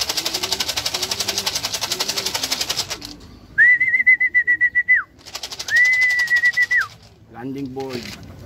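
A racing pigeon lands on the loft landing board during a club fun race. Loud rhythmic clapping and whirring fill the opening seconds, then come two long steady whistles and a short burst of cooing.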